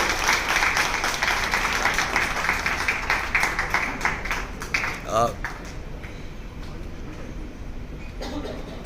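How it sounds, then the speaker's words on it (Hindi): An audience at a national award ceremony applauds in a dense, steady round of clapping during a lamp-lighting moment. The clapping is loud and continuous at first, then fades into quieter room sound. "तालियां इस खास मौके पर ये गड़गड़ाहट की आवाज राउंड ऑफ अप्लॉज रुकना नहीं चाहिए"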